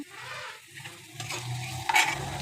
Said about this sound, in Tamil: கருவேப்பிலை கருகக்கூடாது இப்போ சேர்த்துக்கிறேன் கருவேப்பிலை